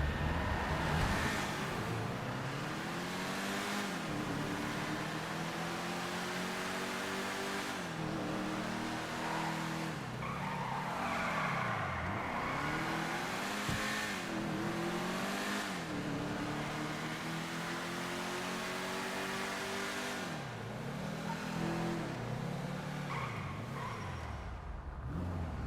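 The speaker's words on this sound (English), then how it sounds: "Shall we test drive this car out?" Ford GT500 sports classic car driven on a test run, its engine rising and falling through repeated revving sweeps and gear changes, a continuous loud drone heard close from start to finish.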